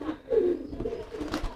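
A homing pigeon gives a short, close throaty coo while driving its mate, a single rolling call followed by soft rustling.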